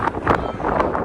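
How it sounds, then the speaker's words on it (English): Wind gusting hard across an outdoor mountain-biking trail on a warm, sunny day, a steady close-up roar buffeting the microphone, swelling in brief surges. "the wind is whipping across here"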